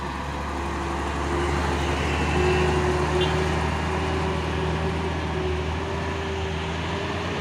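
A truck nicknamed Kakek biru grinds up the Bukit Kodok hill climb, its heavy engine droning steadily and swelling slightly midway, with a voice talking over it.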